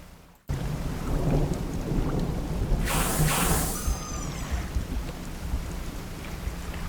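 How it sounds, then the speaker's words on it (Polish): Rain falls steadily in the Dredge fishing game as thunder rumbles through a stormy scene, with a brighter crack and a swelling roll in the middle, all without any voices. "Mam jednak nadzieję, że z tego małego deszczu nie zrodzi się potężny sztorm."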